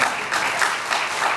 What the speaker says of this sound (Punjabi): ਸਾਰੇ ਭਰਾ ਤਾੜੀ ਮਾਰਨ